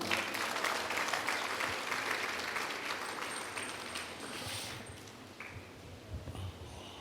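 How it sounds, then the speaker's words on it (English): A church congregation claps for Jesus during a sermon, dense sustained clapping that is loud at first and gradually thins, with a few scattered voices and shouts near the end. "Clap for Jesus."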